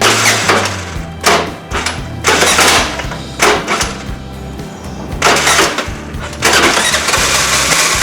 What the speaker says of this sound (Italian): Ora farò una prova per avviare il motore e vedrete appunto che stenterà a partire in quanto la batteria è scarica.